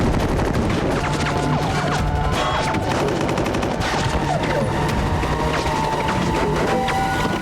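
Rapid gunfire and machine-gun bursts from a Walking Dead battle episode play loud and dense throughout, coming through TV speakers in a room.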